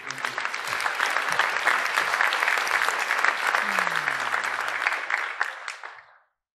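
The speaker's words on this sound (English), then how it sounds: "We can give them a round of applause." A school audience at a Pine Grove Middle School holiday concert claps in dense, sustained applause for about six seconds before it quickly fades out.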